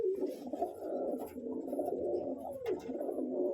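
Pigeons in a breeding loft, most of them sitting on eggs, coo steadily and close by in a continuous low murmur, with a few brief flutters or shuffles mixed in and no talking.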